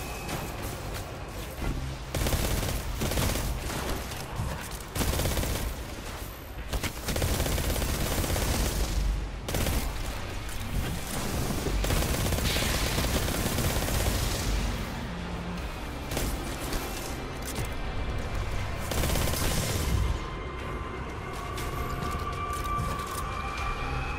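Submachine gun fired from the hip in Destiny 2, bursts of rapid automatic fire repeating through the clip over a dense, busy game soundscape, loud and close.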